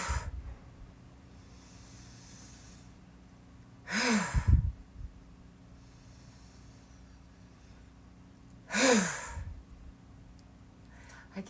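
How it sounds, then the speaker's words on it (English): Breathing exercise with long slow inhales and fast exhales, two sharp forceful breath bursts a few seconds apart over quiet background. "In long, slow inhale and then a fast exhale."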